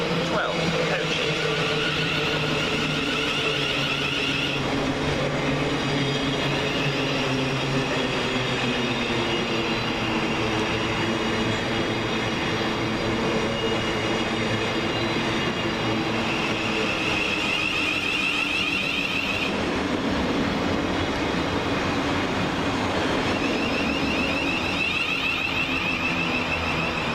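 A 12-coach Govia Thameslink train from Brighton to Cambridge via London St Pancras calls at Gatwick Airport station, with a steady rumble and hum of the train running throughout and faint platform voices in the background.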